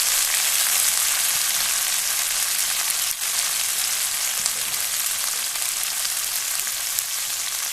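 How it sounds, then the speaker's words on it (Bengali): A spice paste seasoned with salt and turmeric fries in a pan for a thin chicken curry, giving a loud, dense, unbroken sizzle close by with no voices. "মশলাটা আস্তে আস্তে লাল করে ভেজে নেব।"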